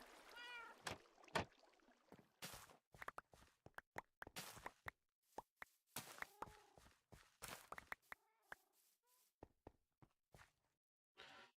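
Cats in the Minecraft video game meow and coo in short, scattered calls with brief pauses between them, heard alone and fairly close.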